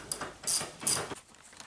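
A ratchet works loose the Torx T50 anchor bolts of a seat belt in a 1986 Ford Mustang Foxbody convertible, giving a few quiet, close mechanical clicks and rasps in short bursts.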